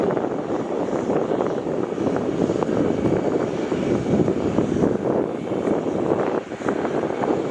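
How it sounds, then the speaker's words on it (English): Air India airliner at Melbourne Airport after landing, its engines with reverse thrusters closing give a steady broad roar, fairly loud and continuous with slight wind buffeting, no voices. "As we get a close-up here of the front of the Air India, the engine, the reverse thrusters slowly closing, and the tail here."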